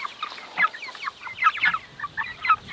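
Pasture-raised broiler chickens and young roosters cluck and peep in short, scattered bursts at moderate distance, fairly soft against a quiet background.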